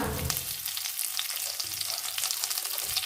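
Dried red chilies and curry leaves fry in hot oil in a pan for a Kerala-style roasted-coconut chicken curry, giving a steady, close crackling sizzle with bright spitting pops throughout.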